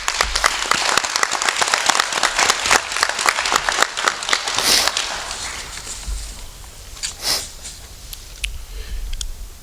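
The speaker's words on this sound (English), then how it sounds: "Give yourself a well-deserved round of applause" A graduation crowd in a school auditorium bursts into dense, loud applause that gradually thins into scattered claps and tapers off.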